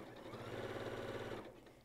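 A sewing machine stitches quilt pieces together with a scant quarter-inch seam, a quick, even mechanical whirring run that starts near, holds steady, then slows and stops at the end.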